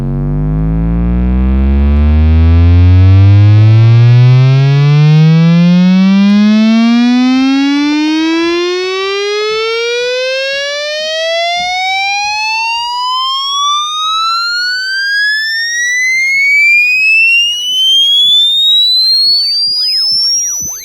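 A test tone is run through the A2 algorithm of a digital multi-effects unit without oversampling. It sweeps slowly upward from a deep hum to a piercing whistle, with faint stray tones folding in at the top.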